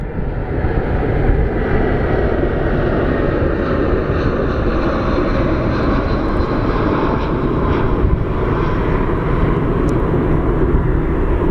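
Airplane engine at Phoenix Sky Harbor International Airport, a loud continuous jet roar with a heavy low rumble and faint rising whine, steady and near for the whole stretch.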